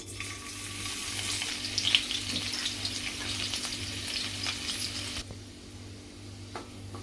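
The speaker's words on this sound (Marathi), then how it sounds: "तर लसूण आपण परतून घेतलं आहे" Crushed garlic cloves sautéing in two large spoons of oil for a Kalet fish curry, a steady close sizzle with faint stirring scrapes that eases off near the end.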